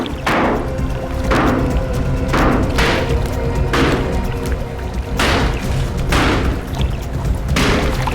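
Heavy tools smash open a water tank, seven or eight loud repeated crashing blows landing roughly once a second against a constant rumbling background, close to the listener and with no talk.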